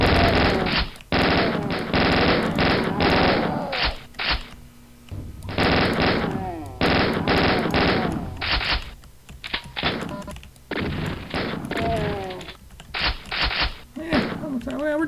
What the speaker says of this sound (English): this chain gun's working pretty nice for me